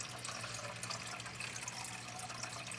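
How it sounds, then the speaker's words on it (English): Aquarium water from an axolotl tank scooped slowly into a cup, a steady close trickle and slosh of water running without a break, with no talk over it. "I'm going to slowly just take the water into the cup."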